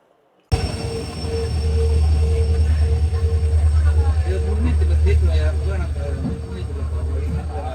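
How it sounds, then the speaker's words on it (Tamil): Low, steady rumble of a train pulling away, with a faint whine and rattling over the rails. It continues at a constant loudness, and a voice is heard faintly underneath. "ட்ரெயின் கிளம்பிடுச்சு"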